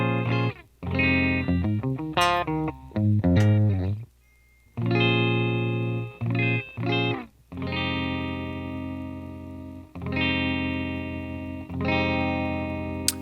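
A satin cherry Gibson ES-335 electric guitar on its bridge pickup plays bright, slightly overdriven notes and chords in short phrases with pauses between them, ringing clearly without any talking.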